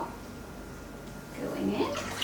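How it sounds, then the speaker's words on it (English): Hot coconut oil pours into a soap-making batch as a steady, close liquid rush that swells slightly toward the end, with a voice talking over it. "Second batch of coconut oil"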